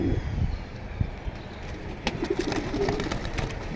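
Caged pigeons coo in short, soft, repeated calls close by, with a few sharp clicks and rustles among them.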